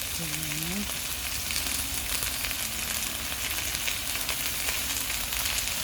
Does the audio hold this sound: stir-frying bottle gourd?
yes